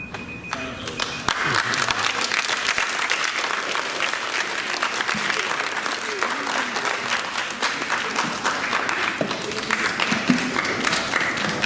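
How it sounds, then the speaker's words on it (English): Sustained audience applause for student debaters at a televised school debate between a Speedway team and ONEB'S Foundation Academy, loud and steady from start to finish after a brief quieter opening. "Let's hear a big round of applause for all of our debaters from Speedway as well as from ONEB'S Foundation Inc."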